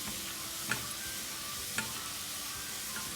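Onions that have turned brown fry in oil in a cast iron kadai, making a quiet, even sizzle with two or three faint clicks of a utensil.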